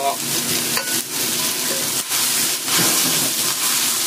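Fish and angled luffa stir-fried in a wok, a steady loud sizzle with scraping stir strokes and brief dips throughout, no talking.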